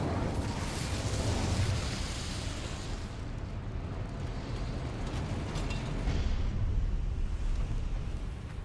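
A fiery Incendio spell cast in Hogwarts Legacy, heard as a sustained roaring, crackling whoosh with dense rumbling bursts that swell again toward the end, with no voices.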